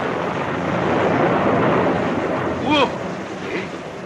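A radio-drama storm effect of rain and thunder: a broad, rushing hiss of downpour with low rumbling underneath, plus a short voice-like sound near the end.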